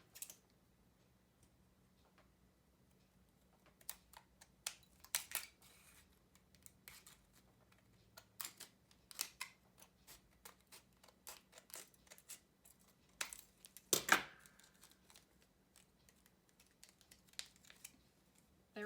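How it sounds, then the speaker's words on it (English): Scissors trimming the edge of an aluminum pop can airplane tail, a close series of quiet, crisp snips and clicks with one sharper cut near the middle, no talking. "I'm just going to trim off the edge again"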